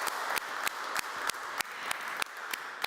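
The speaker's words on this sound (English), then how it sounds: "One more round of applause for our teens." Audience clapping for teens at a leadership breakfast, a continuous wash of many hands broken by regular loud, sharp thumps at steady intervals.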